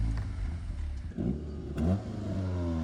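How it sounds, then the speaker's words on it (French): A Cupra Ateca 300 hp engine gets a couple of gentle throttle blips from idle, each rev swelling briefly before settling back to a steady, close engine rumble. "Tu donnes 2-3 petits coups de gaz, mais genre tranquille"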